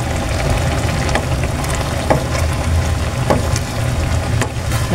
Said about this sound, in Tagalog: Nag-uubo na po yung gata.